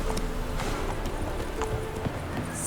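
Hooves of Roach, the horse in the video game The Witcher 3: Wild Hunt, clop in a quick, steady gallop, close and fairly loud over a background of ambient game sound.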